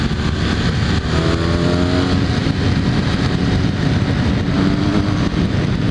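2014 BMW R1200GS Adventure motorcycle cruising, with a steady, loud engine drone and wind rush throughout, close to the rider and no talking.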